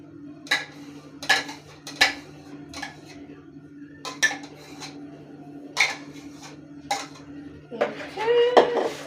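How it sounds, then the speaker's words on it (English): A spoon clinks and knocks against a bowl while stirring glazed donut batter with melted butter, giving sharp, irregular taps close by over a low steady background hum. "We add our melted butter in there as well,"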